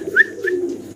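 A pair of Golla pigeons coos close by in a few soft, rounded calls over about a second, with no voices.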